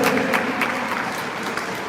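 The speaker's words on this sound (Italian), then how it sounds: "L'applauso fate in modo che si senta anche da casa" An audience at a regional elite boxing tournament final in Veneto claps loudly, a short burst of crowded, crackling applause.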